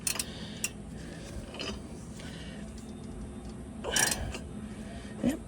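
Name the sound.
socket ratchet turning alternator pulley on 84 Bronco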